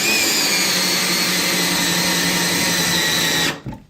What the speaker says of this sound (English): These do take a pretty torquey drill here because they are so long